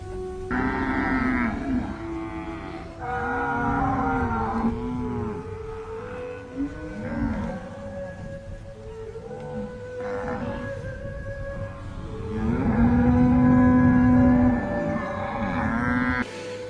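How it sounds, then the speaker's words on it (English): Cattle on a free-range farm in the Paraguayan Chaco low and moo repeatedly, several long drawn-out calls overlapping at varying distances, with a louder, nearer bellow toward the end and no talking. "We have 750 cattle now, and last year they bore 220 calves."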